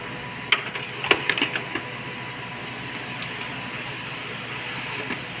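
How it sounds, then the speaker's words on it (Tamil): A toner printer with a paper pickup roller problem feeds and prints a page, with a quick run of sharp mechanical clicks followed by a steady whirring hum. "ஒரு பிரிண்ட்டு கொடுப்போம்."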